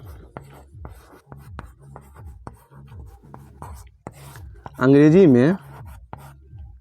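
Scratchy writing strokes on a surface during a Hindi-language English lesson, repeating in a steady rhythm of short marks, close and clear, with a brief spoken word and a short voiced sound partway through.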